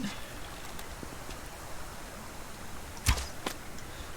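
In the survival game Subsistence, an arrow is loosed from a bow with a single sharp snap. A fainter follow-up sound comes moments later, over quiet outdoor ambience.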